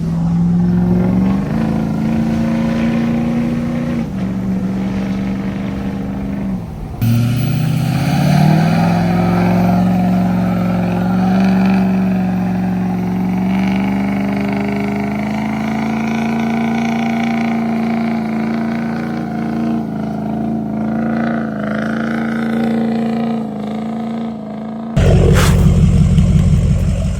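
A Ford 6.0 Powerstroke diesel truck with a very loud aftermarket exhaust revs hard and close, sustained roaring swells and drops across half a minute, ending in a sudden louder burst.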